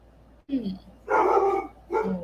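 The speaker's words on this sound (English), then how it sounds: "Dog's barking again." A dog barks in a few short, separate bursts at moderate distance, with quiet room tone between them.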